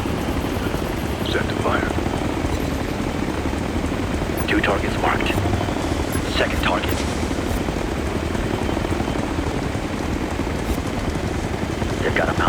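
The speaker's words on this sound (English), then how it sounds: "It's a hostile chopper." A hostile helicopter in the video game Ghost Recon: Future Soldier gives a steady rotor and engine drone throughout, under in-game radio chatter and faint electronic beeps.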